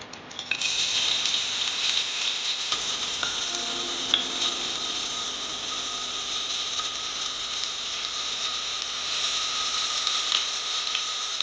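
Onion with cinnamon, curry leaves, cardamom and pepper frying in coconut oil for fish biryani, a continuous bright hissing sizzle at close range with a few faint stirring scrapes and no talking.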